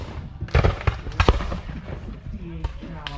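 Sharp reports of musket and cannon fire at a Civil War reenactment staged beside a train ride, several irregular cracks and pops at mid distance amid crowd chatter and people talking.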